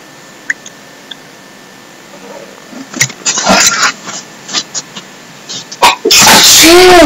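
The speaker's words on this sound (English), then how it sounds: "I don't know if you guys just heard me sneeze or not," A loud, close sneeze bursts out near the end, preceded by faint clicks and soft rustling sounds.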